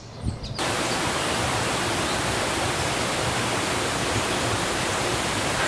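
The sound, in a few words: Racebrook Falls waterfall on Mount Everett, Massachusetts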